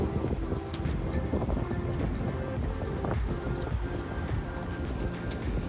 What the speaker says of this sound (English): We're about to get smashed by waves